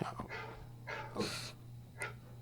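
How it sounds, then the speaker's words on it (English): A dog pants and whimpers in short bursts close by, with breathy puffs and a brief high whine, over a steady low hum in a room. "Whose dog is that?"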